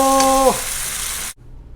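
Chicken coated with ketchup sizzles in a pan as it is stirred, a brief close frying hiss with a short tonal squeak near the start, then cut off.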